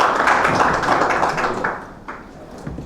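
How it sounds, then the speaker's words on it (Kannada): An audience applauds at a Kannada literary event honouring D.V. Gundappa, a dense, fairly close patter of many hands that swells and then fades over a few seconds. "ನಿಮ್ಮೆಲ್ಲರ ಚಪ್ಪಾಳೆ ಮೂಲಕ ಅವ್ರಿಗೆ ಒಂದು ಅಭಿನಂದನೆ"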